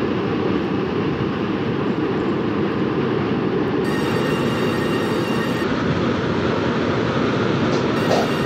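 A video game train rumbles along steadily with loud, continuous rolling noise and a high hiss that shifts partway through.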